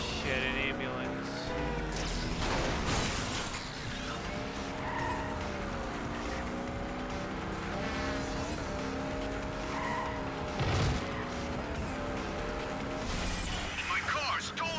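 A car in the Batman Begins video game skids with squealing tires and crashes amid chase noise and game music, while a player talks excitedly over it.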